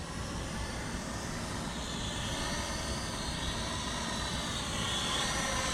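A small Sanrock X105W quadcopter drone flies nearby, producing a steady, whirring buzz of spinning propellers that holds fairly even throughout, with a slight rise toward the end and no voices.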